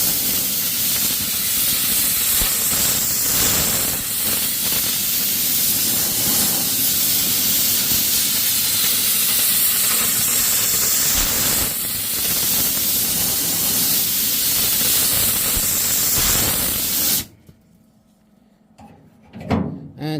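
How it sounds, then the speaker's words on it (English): A compressed-air hose blasts loudly and continuously across a car body panel during auto bodywork, a harsh close hiss for about seventeen seconds before cutting off into quiet with faint handling noises. "Go back, get your air hose."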